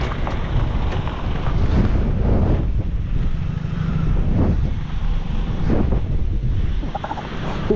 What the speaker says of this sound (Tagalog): Biglang lakas naman yung hangin.